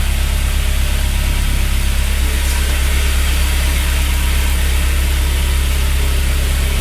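An MK1 Audi TT engine, just back together after a head gasket repair, idles steadily with a loud, even hum and hiss that continues without a break.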